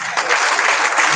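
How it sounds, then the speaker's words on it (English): Brief burst of warm audience applause at a college conference as a keynote professor is welcomed, dense and loud crowd clapping that fills the whole moment without voices. "Please, may we, with warm applause, welcome the respected Professor Sonny Awefa."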